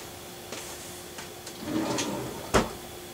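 A drawer being opened and closed during a search, a few soft sliding rumbles followed by a sharp knock as it shuts, close and fairly loud.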